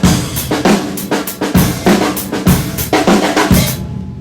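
A drum kit plays a simple backbeat as the intro of a song, with loud close kick and snare hits in a steady groove and bright cymbal or hi-hat strokes in between.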